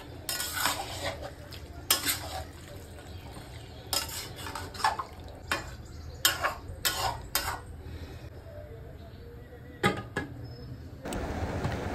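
Marinated country chicken poured into a wok and stirred over high flame, with a low sizzle beneath sharp clattering spoon and metal knocks that come in bursts, close by.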